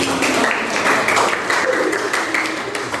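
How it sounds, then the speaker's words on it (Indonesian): A classroom of students claps for a classmate after her reflection, a loud, close burst of many hands sustained evenly and tapering slightly at the end, with no speech over it. "Tepuk tangan."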